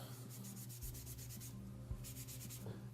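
Steady rubbing strokes of an alcohol wipe across a metal support on a Dillon RL550C reloading press, close and quiet, with a repeating back-and-forth rhythm over a low hum and no talking.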